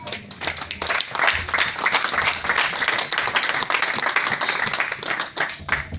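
A church congregation applauds after a call to acclaim Jesus: dense, steady clapping fills the room for about six seconds, loud and continuous, with a few voices mixed in under the claps.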